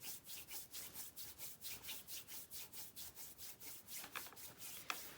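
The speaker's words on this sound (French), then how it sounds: "avec ma paume de main, je frotte la partie osseuse, côté de mon pied" Palm rubbing briskly along the bony side of a bare foot during a self-massage, steady rhythmic back-and-forth strokes, about two per second, close and soft with a dry swishing friction.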